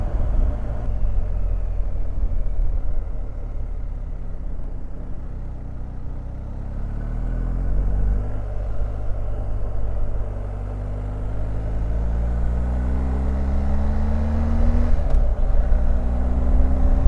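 A 2019 BMW R 1250 GS motorcycle engine pulls hard under throttle, its tone climbing steadily through several gears with wind roar, loud and close from the rider's position, no talking.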